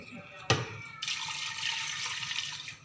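A glass of water is poured into a pressure cooker holding beef stock for pulao, with a sharp clink followed by a steady, close splashing pour that lasts a couple of seconds.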